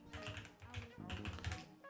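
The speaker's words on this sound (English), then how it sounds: "I was a lot quicker typing it this time" Keys clatter on a computer keyboard in quick runs, soft and close, mixed with faint background sound and some low murmuring.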